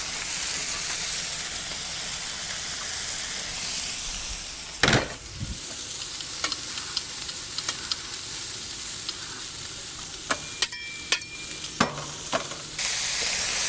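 Onions frying with chorizo on a Weber Slate flat top griddle sizzle steadily throughout, with occasional spatula scrapes and taps, and one louder knock partway through.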